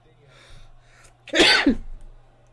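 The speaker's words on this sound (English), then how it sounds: "got a sneeze coming through." A single loud sneeze bursts out close to the microphone, preceded by a couple of quiet sharp breaths and trailing off with a brief exhale.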